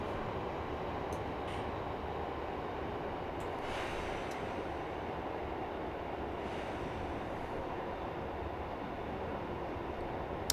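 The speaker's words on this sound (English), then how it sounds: "That was a train." Train passing in the Train Simulator 22 game on the Western Mainlines route, a steady, broad rumble of rolling wheels and track noise held at an even level throughout, fairly faint, with a few faint higher squeaks.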